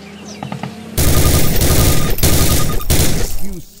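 Weapon fire in Call of Duty (2003) training: after a few quiet clicks, a loud sustained burst of automatic gunfire runs for almost three seconds with brief breaks, then stops abruptly.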